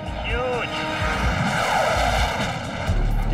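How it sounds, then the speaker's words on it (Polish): A large airplane drones overhead with a steady, loud engine roar filling the whole stretch, while people talk over it. "Cholernie duży ten samolot."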